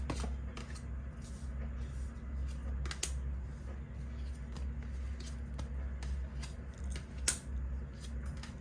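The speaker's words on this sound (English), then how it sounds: "I feel like I need to cut the deck." A tarot card deck is shuffled and cut, giving close, quiet papery riffles and sharp clicks and snaps at irregular intervals over a soft background hum.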